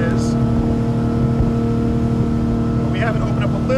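A steady, loud engine drone hums continuously with a churning rumble from a 2001 Sea Ray 185 bowrider running at speed on water, just over 40 mph, with a brief higher whine near the end.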